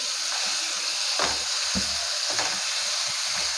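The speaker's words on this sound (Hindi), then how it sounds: "दो मिनट आप इसको इस तरह से मसाले में इसको पकाएं" Potatoes fry in a spice masala with a close, continuous sizzle, marked by a few soft stirring thuds and scrapes, and no talking.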